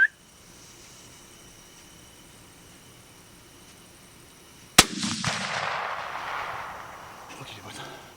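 A single sharp rifle shot at a roebuck during a stalking hunt in Île-de-France, one loud crack after quiet outdoor ambience, followed by a rumbling echo and noise that fades over several seconds.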